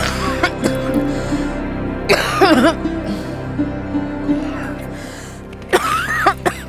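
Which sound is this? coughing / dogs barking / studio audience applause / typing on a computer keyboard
coughing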